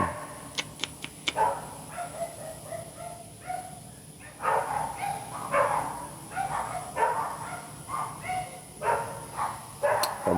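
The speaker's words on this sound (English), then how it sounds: "You hear them dogs barking?" Several dogs bark and yip at a distance in repeated bursts over a steady background hum, with a few sharp clicks near the start.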